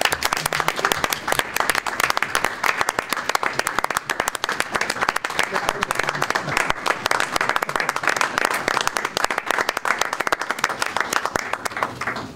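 Audience applause for a retiring employee at a city transportation licensing commission meeting, a steady dense clapping from a roomful of people that continues without break for the whole stretch.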